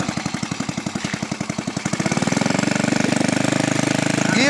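A homemade mini tiller's small engine running, a steady rapid chugging pulse that quickens and tightens into a faster, denser beat partway through, close and loud.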